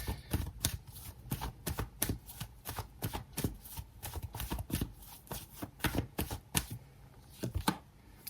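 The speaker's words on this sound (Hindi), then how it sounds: "लेट्स सी, कुछ कार्ड्स और निकाल लेते हैं।" Tarot cards being shuffled and drawn by hand, a rapid series of close, crisp riffling flicks and slaps repeating in bursts with no talk.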